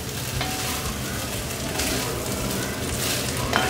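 Cooked rice being stir-fried in a hot pan for prawn fried rice, a steady close sizzle with scraping stirs running throughout, no voices.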